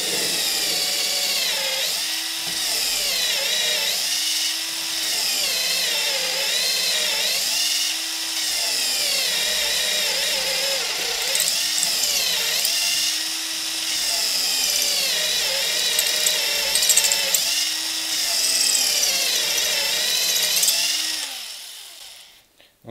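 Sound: power drill with glass drill bit drilling into brick

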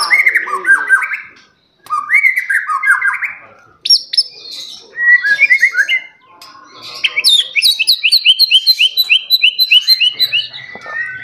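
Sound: murai batu (white-rumped shama) singing

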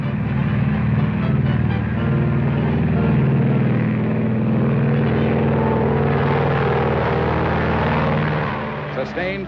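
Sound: Boeing 307 Stratoliner propeller engines at full throttle

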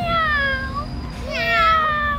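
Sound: woman imitating a cat meowing

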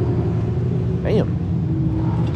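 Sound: Mazda rotary engine car revving

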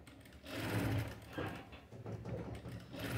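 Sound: sewing machine stitching beside the piping thread

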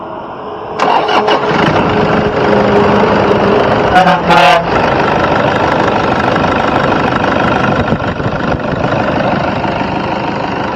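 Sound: 2012 Toyota Innova diesel engine starting and idling

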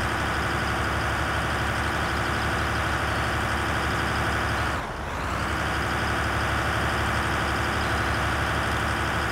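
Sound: tractor engine in Farming Simulator 2013 video game

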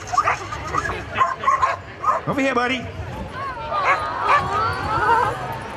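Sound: border collie barking

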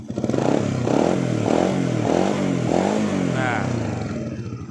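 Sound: Honda Wave 100 motorcycle engine idling after start

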